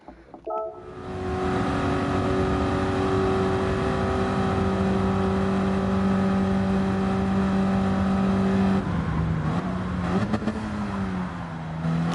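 A race car engine in Gran Turismo 7 screams at high revs, holding a steady strained whine for several seconds before an upshift drops the pitch, then climbs again, loud and close with no talk.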